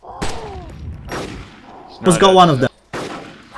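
Gunfire in the video game Arma 2 DayZ: a few loud, sharp shots spaced across the moment, mixed with players talking over voice chat.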